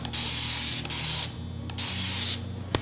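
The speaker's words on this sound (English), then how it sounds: "It also sprays pretty wide too, which I like. You can just see the little bit of mist that it leaves." Spray bottle misting water onto curly hair: two long, hissing, wide sprays, each lasting over a second, with a few short sprays in between, close and loud with no talking.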